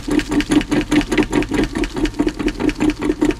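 A car engine cranks in sub-zero cold with the gas pedal pumped, the starter turning over in a steady, rapid rhythmic chug that stays loud and close throughout without catching.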